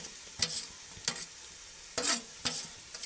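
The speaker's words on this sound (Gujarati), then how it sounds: "તો મિક્સ કરી નાખીએ આપણે હવે." A utensil scrapes and stirs pigeon peas and rice in a cooking pot in a rural Gujarati kitchen, making about five separate close mixing strokes with quiet pauses between them.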